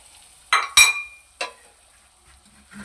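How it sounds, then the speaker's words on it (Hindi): Spoon scraping and clinking in a pan of semolina with melting butter, three short distinct stirring scrapes in fairly close succession, then near silence with a faint soft rustle. "अब हम इसको ऐसे से मिक्स करेंगे, मक्खन भी पिघल जाएगा, हमारी सूजी भी नहीं जलेगी"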